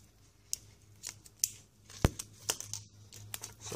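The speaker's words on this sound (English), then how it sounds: "So I just snip that up to the first bulb, and all the Christmas lights." Scissors snip through the wire of a string of Christmas lights being scrapped for brass, several sharp separate cuts with one loud close snip near the middle, alongside light crinkling of the wire and plastic.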